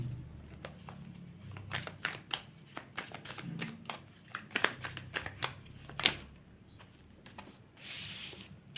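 Tarot cards being shuffled by hand close up, a quick run of crisp riffling slaps and flicks in uneven bursts, fairly quiet, with no talking.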